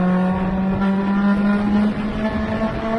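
Mazda MX-5 cars of several generations race in an MX5 Cup round, heard from onboard as a loud, steady engine drone with a strong sustained tone and clear harmonics, no talking.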